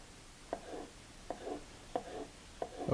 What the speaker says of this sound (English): now I'm going to do like little julienne or jardinière size,